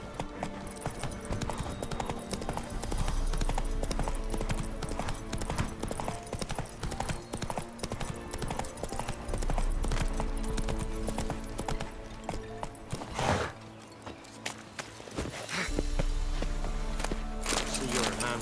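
Roach, the horse in The Witcher 3: Wild Hunt, gallops with rapid, loud hoofbeats up close under game music and ambience, easing briefly before picking up speed again; characters speak over parts of it.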